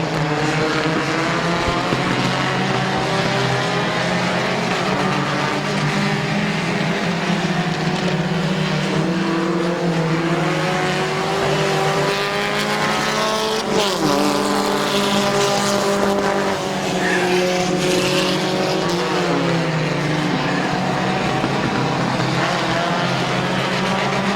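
Race cars roar continuously around the Midvale Speedway track during a night race, engines rising and falling in pitch as they pass, loud and sustained throughout with no talk.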